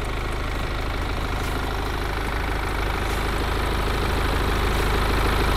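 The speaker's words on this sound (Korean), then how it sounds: "엔진 소리 일정합니다" A BMW 118d F20 five-door hatchback's diesel engine idles with a steady, even low hum that holds unchanged throughout, with no voices over it.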